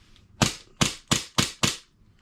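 Elite Force 1911 gas airsoft pistol fired five times in quick succession, sharp close cracks evenly spaced with brief decays, no talk.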